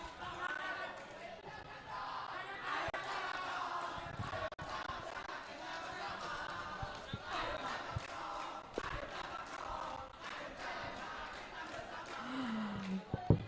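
A large crowd at a public discussion forum in Aceh chants and shouts a group cheer in unison, loud and continuous with rhythmic accents and scattered claps throughout.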